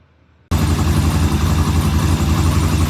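A 1974 Norton motorcycle engine, warmed up with the choke off, settles into a steady close idle that cuts in abruptly and stays loud and even, with a low rumbling throb.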